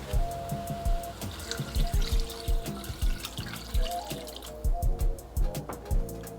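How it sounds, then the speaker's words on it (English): Water is poured into a pot of curry goat, a series of splashing, gurgling bursts with dripping in between, close and moderately loud, without talk. "now we're going to add some water"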